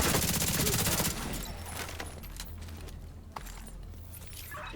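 Rapid bursts of automatic gunfire from The Division 2 shooter game, dense and loud for about a second, then fading into a quieter rumble with scattered faint shots and a single sharp crack near the end.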